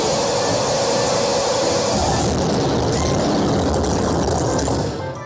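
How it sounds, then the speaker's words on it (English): A monster truck engine roars at full throttle, a loud, dense, sustained rumble up close that holds steady before tapering off at the end. "Go on, hit the full throttle, Mr. Billy."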